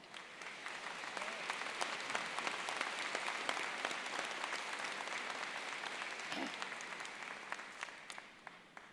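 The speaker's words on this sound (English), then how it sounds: "This concludes our stage party, and you can now applaud." A university convocation crowd applauds in a broad, steady wash of clapping that swells early, holds evenly, and tapers slightly near the close.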